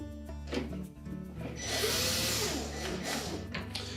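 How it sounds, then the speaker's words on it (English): A power drill drives screws into the metal corner brackets of a Whirlpool refrigerator fresh food door, a steady close whirring with short bursts and rising pitch, with no talking. "Now we're ready to put the remaining screws in the corners of those metal brackets."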